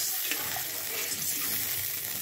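Water poured into a pan of frying green chilies and olives, giving a dense steady sizzle with bubbling hiss, close and loud throughout with no talk.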